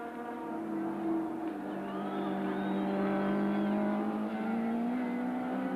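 Touring cars, including a BMW, race at Kyalami during a 1994 South African championship round, a sustained engine drone with rising and falling tones as cars climb toward a corner, steady and moderately distant, without speech.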